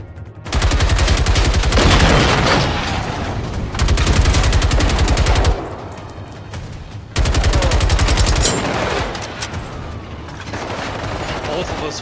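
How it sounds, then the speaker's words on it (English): Machine guns in the video game Generation Zero fire in long, loud sustained bursts, several volleys broken by short pauses, with talk faintly audible in the gaps. "Both of those firing machine guns."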